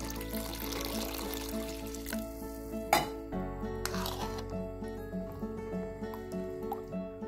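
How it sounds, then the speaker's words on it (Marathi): Water is poured into a pot of spinach dal on the stove, a soft, quiet trickling and splashing over background music, with a single clink of the pot partway through. "त्यात पाणी घालू"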